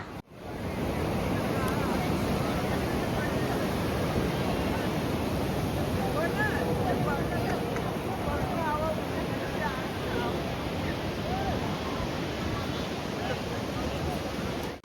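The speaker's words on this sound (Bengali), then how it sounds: "এই হচ্ছে পুরী সমুদ্র সৈকত" Continuous roar of ocean surf on the beach at Puri, India, with heavy wind buffeting the microphone, with faint voices somewhere in the mix.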